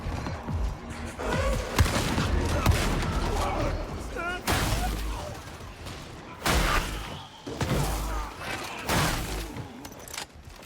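Video game gunfire with shock electric rounds, a run of sharp bursts and heavy impacts crackling in clusters over about ten seconds, loud and close, with chaotic combat noise filling the gaps.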